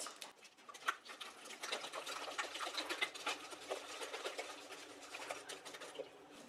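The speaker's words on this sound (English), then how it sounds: "we're just going to whisk this till it's well mixed." Wet ingredients with eggs and vanilla whisked by hand in a bowl for turtle brownie cookie bars: a steady, fast stream of light rhythmic scraping and clicking throughout, fairly quiet and close, with no talking.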